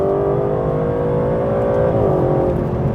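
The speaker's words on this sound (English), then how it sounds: "put it into track mode on the traction, and before you know it, the V12 comes to life" Aston Martin DBS Superleggera with a 725-horsepower V12 in track mode, revving loudly and steadily up close, the engine note climbing in pitch before dropping sharply near the two-second mark and holding again.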